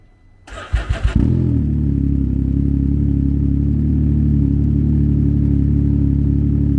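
A 2019 Can-Am Ryker 900 Rally Edition three-wheeler with an 899cc three-cylinder engine and CVT transmission: a brief starter crank fires up, then settles into a loud, steady, close idle.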